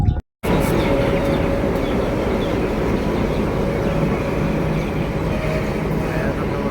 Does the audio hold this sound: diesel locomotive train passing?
yes